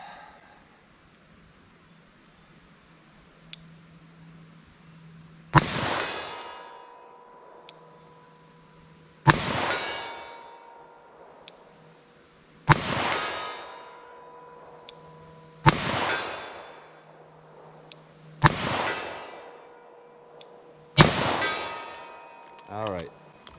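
Six sharp, loud .38 Special +P shots are fired one at a time from a revolver outdoors, each crack ringing out and fading before the next, with a few seconds between shots and faint background hum.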